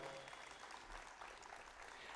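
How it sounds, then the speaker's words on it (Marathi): Audience applause welcoming a guest speaker, a retired Air Marshal, at a lecture series event in Karanja, a dense wash of clapping that continues evenly for about two seconds, fairly faint. "टाळ्यांनी पुनश्च एक वेळ टाळ्या वाजवूया"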